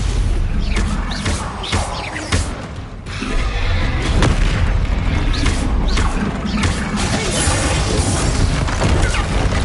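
Explosive booms and crashing impacts from the Confringo blasting spell in Hogwarts Legacy, heavy and continuous amid combat, with sharp hits scattered throughout over a loud, rumbling game soundscape.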